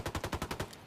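Rapid automatic gunfire from a weapon in Ghost Recon Wildlands, about nine sharp, evenly spaced shots in a quick burst, close and loud with no talk over it.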